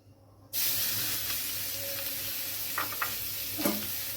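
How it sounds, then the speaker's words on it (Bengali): Grated carrot drops into hot ghee and bursts into a loud, sudden sizzle after a brief quiet start, then a steady frying hiss continues with a few soft stirring scrapes, close and without speech. "ঘিটা গরম হয়ে গেছে। এবার আমি এতে দিয়ে দিচ্ছি গ্রেট করা গাজর।"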